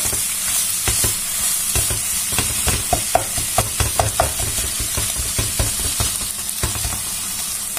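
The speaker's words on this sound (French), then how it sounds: "On va mélanger tout ça et on va laisser cuire encore pendant 5 minutes." A French gratin mixture with olives stirred and cooking in a pan, a steady loud sizzle with a run of close, rhythmic scraping stirs through the middle, no talking.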